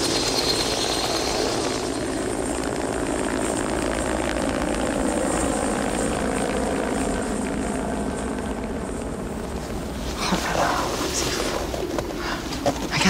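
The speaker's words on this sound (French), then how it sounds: "Maintenant que l'hélico est parti, il n'y a plus un bruit." A helicopter in the Siberian tundra drones with a steady, loud rotor and engine roar that stays fairly constant, with a few faint bird-like chirps and scattered noises toward the end.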